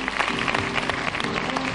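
Applause from the audience at the Miss Universe Paraguay 2006 crowning, a dense, steady wash of clapping under music in a large venue, continuous and fairly loud for a couple of seconds.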